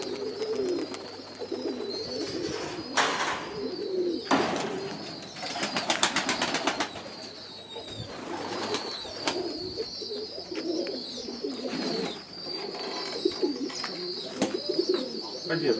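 Pigeons coo repeatedly around a pigeon loft, soft throaty calls rising and falling close by, mixed with wing flaps and scattered bird chirps while people talk in the background.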